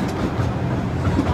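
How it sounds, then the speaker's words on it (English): Amusement park train rolling along its track at a theme park, a steady rumbling clatter of wheels close by with rhythmic clicks, no talking. "Train sped up."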